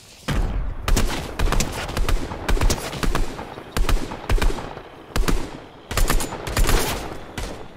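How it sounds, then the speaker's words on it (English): Rapid bursts of automatic gunfire in the video game Fortnite, loud and close, firing in repeated volleys with brief pauses between them. "I'm shooting them."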